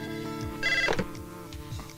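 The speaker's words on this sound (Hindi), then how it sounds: "सर जी आपका फोन है।" Telephone ringing in a Hindi film scene, a repeated electronic ring with warbling tones, fairly loud and close, with no talk over it.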